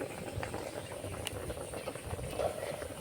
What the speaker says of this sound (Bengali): তো দেখো খুব সুন্দরভাবে ফুটে গেছে